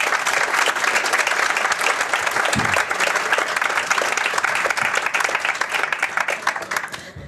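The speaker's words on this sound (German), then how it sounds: "Dein Applaus." An audience at a German live broadcast bursts into loud, sustained applause, dense crowd clapping that holds steady for several seconds before beginning to thin at the end.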